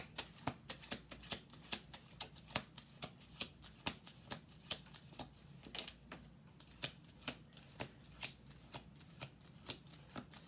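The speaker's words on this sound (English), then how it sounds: "One more shuffle." A deck of cards is shuffled over and over, giving a steady run of crisp, quiet riffling snaps close by, with no talking.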